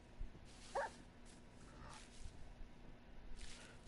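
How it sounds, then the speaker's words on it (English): Wolf barking in Minecraft Bedrock on PS4, a short faint yip heard once early on against quiet game ambience and soft rustling. "did you hear that wolf bark?"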